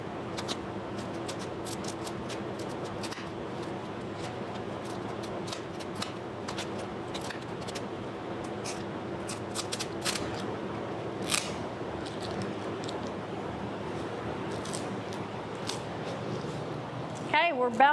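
Scissors repeatedly snip through a foam pool noodle, giving a steady series of small crisp cuts close by, with a voice talking intermittently over them.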